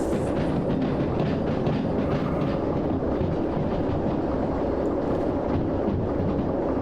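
A train in the rail simulator game Derail Valley braking through a turn, a loud continuous rumble with dense grinding wheel noise that holds steady throughout, no voices.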